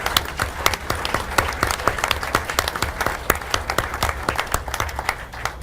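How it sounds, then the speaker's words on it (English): Applause for inductees at a regular public meeting, individual claps clearly separated and fairly close, a modest group clapping steadily throughout without talk. "let's give our inductees a round of applause"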